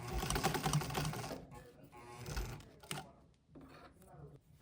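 A sewing machine runs a straight stitch through fabric, a close rapid mechanical whir that stops after a second or so and gives way to softer handling noises and brief bursts.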